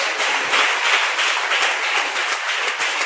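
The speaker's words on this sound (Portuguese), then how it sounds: "Vamos receber o servo de Deus com as palmas bem forte" Steady, dense applause from a church congregation fills the space, many hands clapping together loudly and continuously with no voices over it.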